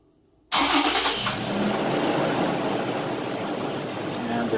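Toyota Tacoma engine cranking and catching after a Viper remote start press, bursting in loudly from quiet and then settling into a steady, close idle rumble.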